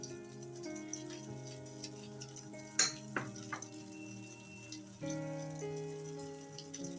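Boiled elephant yam cutlets lightly shallow-frying in a pan, giving a soft, steady sizzle beneath prominent background music, with a brief utensil clink partway through.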